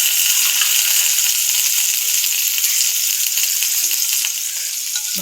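Whole spices such as cinnamon, cloves and cardamom sizzle steadily in a spoonful of hot oil with a little butter, a bright continuous frying hiss that holds close and even throughout, with no voices.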